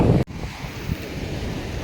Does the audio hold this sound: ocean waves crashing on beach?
yes